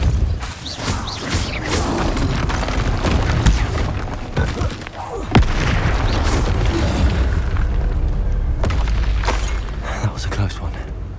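A Repulsor spell blast in Hogwarts Legacy during a goblin relic heist, a deep booming thump amid continuous combat noise and clatter, with a voice calling out over the fight.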